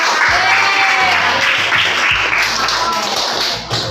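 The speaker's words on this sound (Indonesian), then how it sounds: "Tepuk tangan." A classroom of pupils claps their hands together in a steady, close burst of applause that runs the whole time with no talk over it, fading slightly at the very end.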